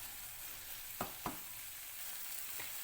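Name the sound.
onion masala sautéing in pan for egg kothu chapathi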